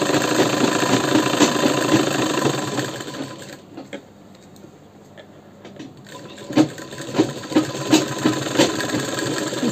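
A sewing machine stitches elastic onto the fabric of a cuff sleeve, running in a steady close whir that pauses briefly midway, then restarts with rhythmic mechanical thumps.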